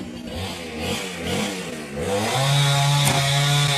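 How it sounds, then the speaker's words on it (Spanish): A neighbour's chainsaw cutting firewood outdoors on an island, a steady revving engine drone that rises and holds, fairly close and continuous without talk. "Ahí tenemos el vecino que está cortando leña"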